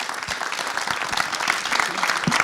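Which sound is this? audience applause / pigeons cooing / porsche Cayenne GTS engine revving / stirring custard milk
audience applause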